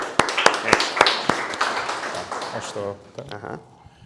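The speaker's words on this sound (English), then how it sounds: "A round of applause." Scattered claps from an audience at a startup pitch session, a few sharp hand strikes up front that thin out as talking takes over.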